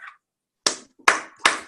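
Three sharp hand claps ring out close and fairly loud at a team call event, evenly spaced about half a second apart after a moment of silence.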